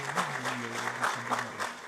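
Audience applause at a national business excellence awards ceremony in New Delhi, a steady dense patter of clapping hands from a crowd, sustained and fairly loud throughout.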